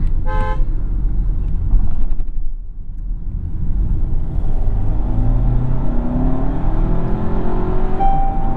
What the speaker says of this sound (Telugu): ఎక్స్టీరియర్ హార్న్ నాయిస్ మాత్రం క్యాబిన్లోకి వినిపిస్తుంది